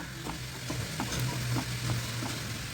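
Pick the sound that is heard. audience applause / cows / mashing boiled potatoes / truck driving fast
mashing boiled potatoes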